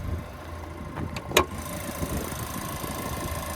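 The 1.5-liter turbocharged four-cylinder engine of a 2023 Chevrolet Equinox RS idles with the hood open, giving a steady low hum and whir. A brief click or tap sounds partway through.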